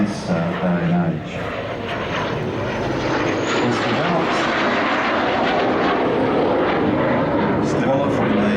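A Cessna A-37B Dragonfly twin-jet light attack aircraft roars past at an airshow, a loud steady engine wash that swells and holds throughout, with a voice talking over it.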